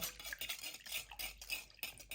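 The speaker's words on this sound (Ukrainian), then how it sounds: "І трішки перемішуємо, чи то ложкою, чи то ось так вінчиком" Milk is stirred into yeast in a bowl with a whisk, giving a steady scraping, swishing clatter of wire against the bowl that runs continuously at close range with no talk.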